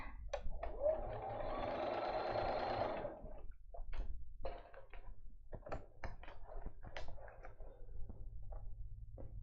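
A sewing machine stitches across paper-pieced quilt blocks with a steady, close mechanical whir for about three seconds, then stops, leaving scattered light clicks and taps as the fabric is handled.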